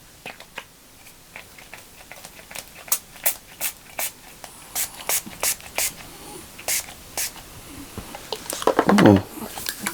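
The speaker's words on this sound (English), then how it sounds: "Shall I just do a bit of a mist just now?" Facial mist from a skincare advent calendar sprays in a string of short, sharp puffs, close and clear, followed by a louder burst near the end with a soft voice briefly audible.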